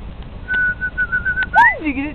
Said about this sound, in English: We're whistling for the lightning to come.